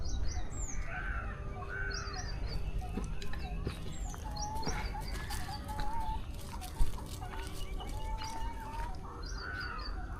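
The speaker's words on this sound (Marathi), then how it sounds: "हे बघा, हे माझे कोंबडे." Rooster and hens clucking nearby at a farmhouse, with scattered chirps from small birds and outdoor background noise, one brief knock midway.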